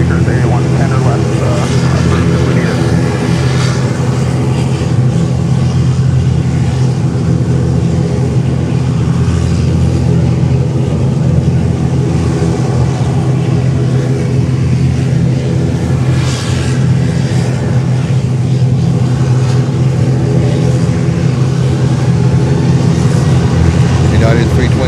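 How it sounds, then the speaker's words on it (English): A United Airbus A321neo takes off from runway 10 left at Fort Lauderdale–Hollywood International Airport, its engines a loud, steady broadband roar that fills the whole stretch. "Taking off here, runway 10 left."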